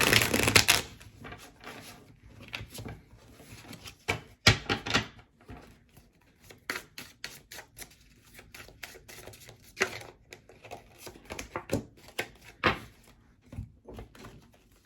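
Cards shuffled and handled close by, a run of crisp riffling bursts and soft slaps with quiet gaps between, no talking.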